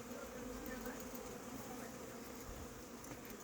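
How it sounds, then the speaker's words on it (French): Two hornets hunting in front of a beehive in an apiary, a faint continuous buzzing drone of wings against a quiet outdoor background. "Deux frelons qui chassent devant la ruche, qui volent ensemble."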